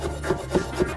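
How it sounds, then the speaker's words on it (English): Knife slicing thin through folded parsley on a board, three quick rhythmic cuts close and clear, with no talk. "a bit of parsley, fold it up and slice thin"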